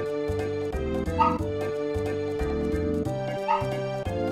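A large dog barks and whimpers close by, with short yips over a steady backdrop of game music, the calls coming in brief bursts across the few seconds.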